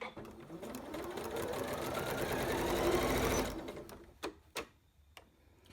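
A sewing machine fitted with a special piping foot stitches piping, a steady rapid mechanical whirr running for several seconds before stopping, followed by a few soft clicks and handling taps.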